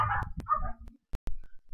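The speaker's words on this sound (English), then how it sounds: "I wish those dogs would shut up." Dogs bark nearby in short, sharp yips and barks, several quick calls clustered at the start, then a few more sporadic ones after a brief pause.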